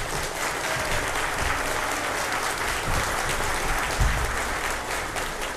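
Sustained applause from an audience at an accordion festival day in Chamberet, greeting the day's radio presenter; dense, even clapping throughout with no speech over it.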